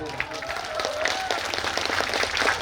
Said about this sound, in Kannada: ಒನ್ಸ್ ಅಗೇನ್ ಎಲ್ಲರ ಕಡೆ ಜೋರ ಚಪ್ಪಾಳೆ ಬರ್ಬೋದಾ?